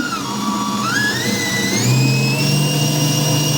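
A Hauswirt digital stand mixer, 5.3-quart with 11 speeds, runs with a loud motor whine that climbs in pitch in steps as its speed increases, with no talk over it.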